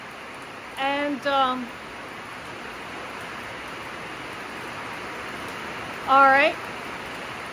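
Heavy rain downpour outside a cigar box guitar workshop, a steady broadband hiss that runs unbroken through the whole clip while someone speaks briefly over it.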